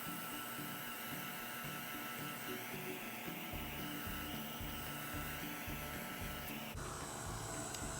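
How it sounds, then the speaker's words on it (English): A craft heat tool blows steadily for drying paint on small painted noses, a continuous close whirring hiss with a low fan drone that shifts pitch partway through, no talking. "we're going to go ahead and use our heat tool and get those noses dried"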